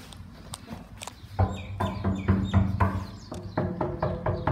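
An injured, bleeding bird that cannot fly clucks in repeated short bursts, close and fairly loud, with rough chicken-like calls that come after a quieter opening stretch.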